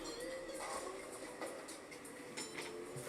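A train rumbles past a level crossing with barriers down, a steady rolling rush with faint rail clatter heard from nearby outdoors, and birds chirping lightly in the background.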